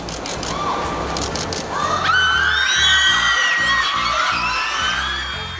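A crowd of fans at a Hong Kong airport cheers and screams in the early morning as members of the K-pop group BTS appear, high shrieks and whoops rising to a loud peak, with rapid camera shutter clicks throughout.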